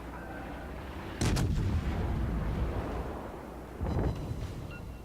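Warship main guns firing in the naval game World of Warships: two heavy booming salvos a few seconds apart, each a sharp blast trailing into a rumbling roar, over a steady low ambient hum.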